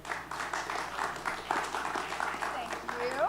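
Audience at a cloud meetup applauds to welcome Sandy Carter of Amazon Web Services: steady, dense clapping from a crowd, even in loudness for the full stretch.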